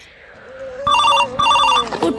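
A telephone rings in two bursts of bright, warbling electronic trills with a short gap between them, loud and near, while a person speaks over a low background tone.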